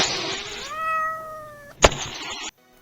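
A cat meows once in the Crime Detective video game, a clear drawn-out tonal call over a hissy ambient background, followed by a sharp thump and a fading noise.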